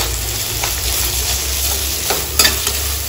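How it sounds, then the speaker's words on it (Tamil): Chopped tomato with salt sizzles in a hot pan, a steady close frying hiss broken by a few soft stirring scrapes near the end. "இங்கே 1 தக்காளி அரிஞ்சு வச்சுருக்கேன், அது போட்டுடலாம்."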